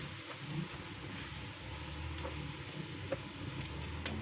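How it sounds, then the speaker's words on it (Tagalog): Ingredients sautéing in a pan for a puto pao filling, a soft steady sizzle heard faint and low with occasional light clicks of stirring, no voices. "haluin lang natin, gisa-gisa"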